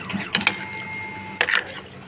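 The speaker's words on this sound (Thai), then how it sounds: "ปั๊มน้ำนะคะทุกคน" A water pump whirs with a faint steady hum, broken by two short crackling mechanical bursts.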